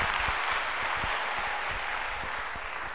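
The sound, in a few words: audience applause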